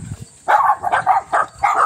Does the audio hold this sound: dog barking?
yes